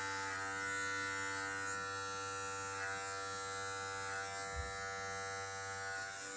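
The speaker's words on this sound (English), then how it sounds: "remember to pull out the clipper from the skin" Electric hair clipper with a number 1 attachment buzzing steadily and close while cutting hair during a home haircut, with a continuous hum and a brief bump near the end.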